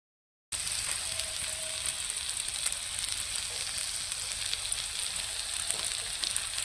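Marinated fish frying in hot oil gives a steady, dense sizzle that starts abruptly and carries on evenly throughout, close and with no talking.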